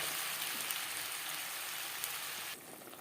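Paste of onion, garlic, tomato, ginger and green chilli frying in mustard oil with cumin seeds, a dense even hiss like rain, dropping slightly quieter near the end.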